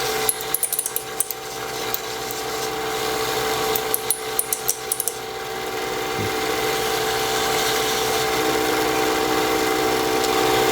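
A wooden pen turning on a lathe mandrel with bushings is sanded with sandpaper, a steady hum of the spinning lathe under a continuous scratchy rasp, with a few brief sharp clicks early on and no talking.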